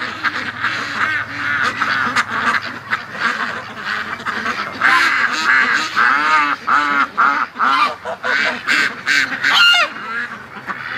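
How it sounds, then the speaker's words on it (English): A flock of farm ducks and geese honk and quack loudly and close by, a dense, rapid stream of overlapping calls that keeps up for the whole stretch with brief dips between bursts. "But as soon as I start talking on the camera, they get loud."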